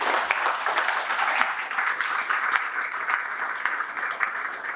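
An audience applauds after a talk, dense continuous clapping that stays even and fairly close for several seconds, with no talk over it.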